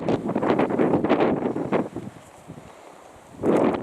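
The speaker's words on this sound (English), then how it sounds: "Can't hear you, Steph, the wind's too loud." Strong wind buffets the microphone on an exposed mountain route in the Tararua Range, a loud broadband roar that swells and gusts, eases off briefly, then surges again.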